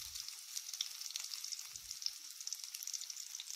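Cabbage and green chillies frying in a pan, a faint, steady crackling sizzle with fine spitting pops and a couple of low soft bumps, quiet and continuous with no voices.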